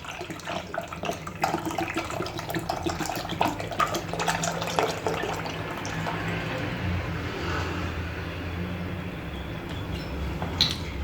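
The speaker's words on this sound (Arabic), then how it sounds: "غادي ندير الحليب اللي عندي" Milk poured into a pot as the first step of a chilled dessert, a steady liquid splashing and trickling that runs continuously without speech.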